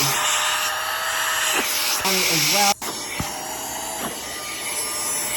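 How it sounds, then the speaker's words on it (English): A JONYJ 16000Pa USB-powered handheld vacuum cleaner runs with a loud, steady airy hiss and whine, briefly dipping and changing pitch as it is handled, with a short pause before resuming; a voice speaks briefly over it. "Got this little vacuum cleaner in the mail, USB cord. A lot of suction already."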